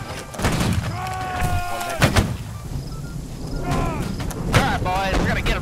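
Muskets fire in the Holdfast: Nations At War battle game, giving heavy booming cracks amid ongoing battlefield noise while voices shout over the top.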